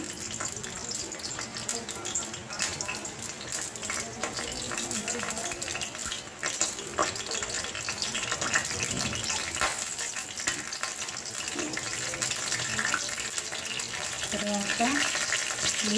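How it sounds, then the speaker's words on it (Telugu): Spices crackle and sizzle in hot oil as a tempering for ridge gourd curry, with a steady hiss, a spoon occasionally scraping the pan, and a voice speaking intermittently over it. "నూనె కాలిందండి పోపు ఇందులో వేస్తున్నాను"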